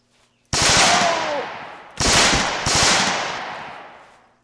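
Rapid bursts of PPSh submachine gun fire in the World War II shooter Easy Red, three loud, close volleys of fast automatic shots with brief gaps between them.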